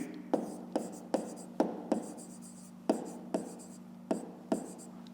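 A pen scratches on paper in short, quiet strokes at an uneven pace, as someone writes out a fifth-grade maths exercise at close range.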